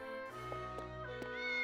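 A cat meows in the video game Triangle Strategy, a short tonal cry heard clearly over a steady layer of game music.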